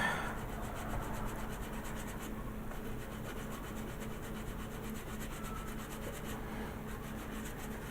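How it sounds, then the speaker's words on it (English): Steady, continuous rubbing and rasping of light sanding with a sanding stick over putty on a Star Trek Voyager scale model, close and fairly quiet, with a fast back-and-forth rhythm and no talking. "I'm just going to get one of my sanding sticks here, and I'm just going to give it a light dusting over"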